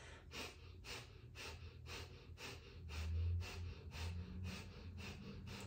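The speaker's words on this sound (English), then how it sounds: "close the mouth and let the panting happen through the nose" Rapid, rhythmic panting through the nose during a breathing exercise, with about a dozen quick, even sniffing breaths at a steady pace that are close and moderately soft.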